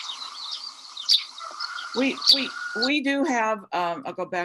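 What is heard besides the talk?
Eurasian tree sparrow call recording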